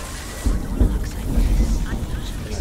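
Thunder rumbles from a nearby lightning strike during a video game storm, deep rolling booms swelling and fading over steady rain noise, fairly loud.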